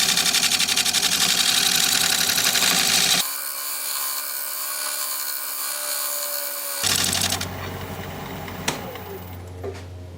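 Very hard wood spinning on a wood lathe and cut with a gouge, a loud steady whirring drone that stops abruptly, then a quieter hum, then the machine running again with a few sharp knocks near the end.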